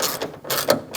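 A ratchet tightens a door handle reinforcement bolt on a 2006-2011 Chevrolet, giving a few quick clicking strokes in short bursts with brief pauses, close up and alone.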